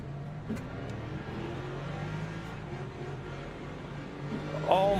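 A BMW race car accelerates in the Le Mans Ultimate racing game, its steady mid-pitched engine drone rising through gears alongside other cars, with a brief louder swell near the end.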